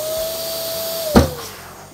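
An electric balloon inflator machine whirring steadily with a motor hum, then a brief louder rush of air near the middle as the balloon fills, with the motor continuing afterward.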